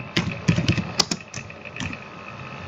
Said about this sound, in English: Now we have to type our name